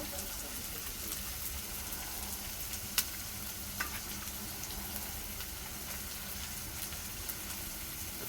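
Chopped garlic and chili frying in a hot pan, giving a steady, close, broadband sizzle throughout with a few faint clicks of utensils and no talk.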